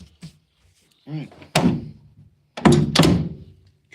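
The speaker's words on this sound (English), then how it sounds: "Driver door is installed just like that." The driver door of a Honda project car with an H22A engine swap is fitted with a few light knocks, then closes with heavy, close thunks, two of them in quick succession near the end.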